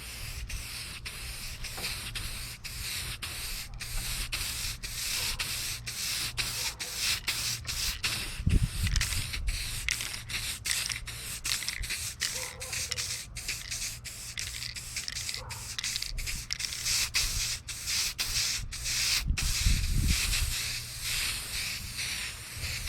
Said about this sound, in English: So we're gonna go ahead and move on to the matte clear sealer. We're gonna do it on this section over here